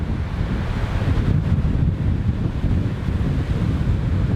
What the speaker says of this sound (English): And this is the Atlantic Ocean. It's very rough here